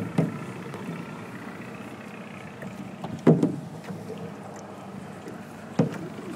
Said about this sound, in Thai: ต่อไปจะเป็นการพยายามพายเรือจากหน้าปากซอยสยามสามัคคีทวนน้ำนะครับ